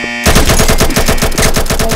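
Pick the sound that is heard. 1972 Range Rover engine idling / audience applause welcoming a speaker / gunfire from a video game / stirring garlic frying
gunfire from a video game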